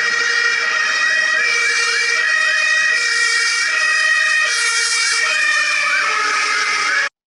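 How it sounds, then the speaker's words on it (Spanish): An ambulance siren wails loud and close, cycling steadily for about seven seconds before it cuts off abruptly, with no voices. "cuando pasa una ambulancia, nosotros escuchamos el sonido mucho más agudo, que cuando termina de pasar, tiene que estar más grave."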